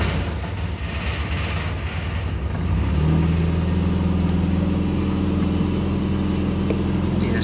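A Triumph Spitfire MKIII engine cranks and starts, then settles into a steady, close, fairly loud idle with a low continuous hum after the first few seconds.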